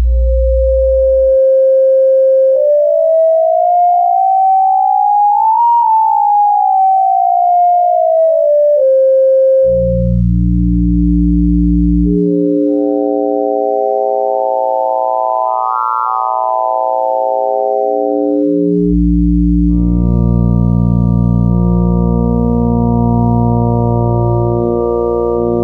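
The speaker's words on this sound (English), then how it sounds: "So let's change the column within this wavetable." A Synth Tech E350 wavetable oscillator switches between columns of its wavetable, giving a loud, steady electronic tone that glides up and down in pitch and shifts from a pure sine to buzzy, harmonic-rich timbres over about 25 seconds, with no talking.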